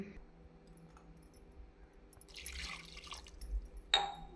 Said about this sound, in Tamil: இப்பொழுது இதனுடன் நாம் ஒரு டம்ளர் தண்ணீர் சேர்க்க வேண்டும்